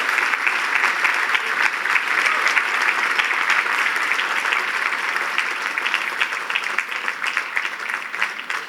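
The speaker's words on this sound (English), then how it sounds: "can we give another round of applause for Professor Beydoun, please?" Sustained audience applause at a gala, a thick, even wash of many hands clapping for several seconds, loud and continuous with no voices over it.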